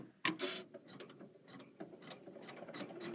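A Kimberbell embroidery machine stitches a placement and tack down line, making quiet, close mechanical clicks and ratcheting ticks in an uneven rhythm, with no talk over it.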